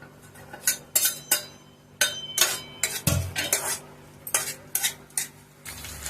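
Onion, carrot, beans and curry leaves frying in oil for veg fried rice, with repeated sharp scrapes and clinks of a stirring spoon against the pan over a low sizzle, close and fairly loud with no talking.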